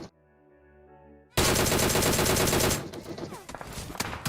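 Rapid bursts of PUBG Mobile gunfire erupt loudly after a quiet musical intro, then continue as scattered shots and clatter.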